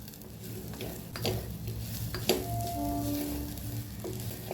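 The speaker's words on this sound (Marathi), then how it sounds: "सर्व मसाले परतून घेऊया" Ground spices including turmeric sautéing in a pan for vangi bhat, a low steady sizzle broken by a few spoon scrapes and knocks, close but fairly quiet, no voices.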